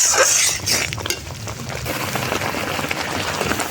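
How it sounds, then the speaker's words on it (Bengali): Roselle chutney with sugar stirred continuously in a pan, a soft bubbling sizzle with scraping and sticky spoon movements, close and moderately loud. "এরপর এটা নাড়তে নাড়তে চিনিটা মিশিয়ে দিতে, আর এই সময় কিন্তু ক্রমাগত নাড়তে থাকতে হবে"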